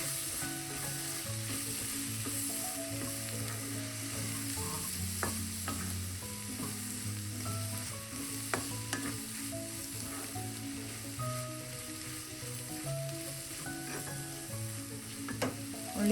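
Spice powders and onion frying in oil for a crab curry, a continuous low sizzle with intermittent scraping and stirring clicks from a utensil in the pan, fairly quiet and close, no talk.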